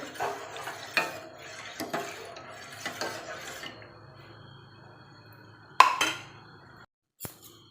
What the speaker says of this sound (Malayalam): അത് നമ്മൾ നന്നായി ഇത് ഇളക്കിയെടുക്കുന്നുണ്ട്